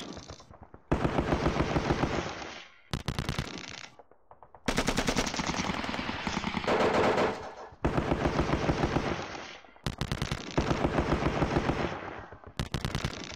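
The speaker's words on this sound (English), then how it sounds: "Lots of shooting. Lots of shooting." Simulated gunfire from the wargame Sealion '40 by John Tiller Software: loud, rapid machine-gun bursts and rifle volleys arrive in several blocks separated by short silences, dense and close.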